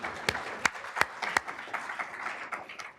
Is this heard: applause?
yes